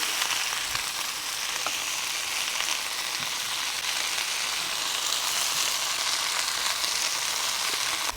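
Vegetables stir-frying in plenty of oil, a dense, continuous loud sizzle that holds steady throughout with only faint stirring knocks, no talking.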